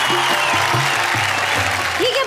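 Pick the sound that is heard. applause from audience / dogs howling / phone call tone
applause from audience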